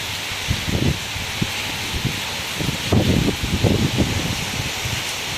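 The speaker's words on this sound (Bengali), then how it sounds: "তো দেখো খালি পুরো হাওয়া আর বৃষ্টি, আওয়াজ দেখেছ যাচ্ছে, দেখো বৃষ্টিটা" Wind and rain sweep across an open rooftop in a storm, a steady broad hiss of falling rain with low, rumbling gusts buffeting close by in irregular bursts.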